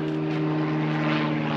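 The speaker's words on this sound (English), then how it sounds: "that's a little plane," Small propeller plane flying overhead near an airport, a steady droning engine hum with a strong buzzing tone, moderately loud and continuous with no talking.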